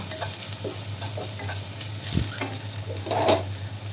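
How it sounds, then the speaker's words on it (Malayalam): Spices sizzle in a hot pan while a utensil stirs and scrapes in cooked beans, with a steady low hum underneath and a few louder knocks. "ഇതൊന്ന് നന്നായിട്ട് ഇളക്കി യോജിപ്പിച്ച് കൊടുക്കണം"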